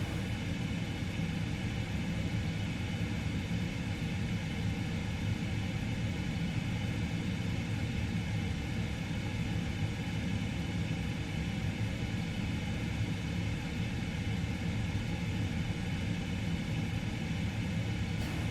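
Steady, unbroken low engine rumble of a Boeing 777-200ER in the PMDG flight simulator on a Bengaluru to London flight, droning at an even level throughout with no voices.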